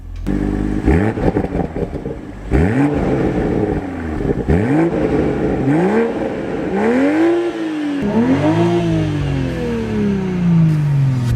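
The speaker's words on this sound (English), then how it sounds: "because this has an active exhaust when you put it in sport" A 2021 Toyota GR Supra 3.0's active exhaust in sport mode revs loudly and repeatedly, each rising blip falling off with pops and crackles, ending in a long sustained rev.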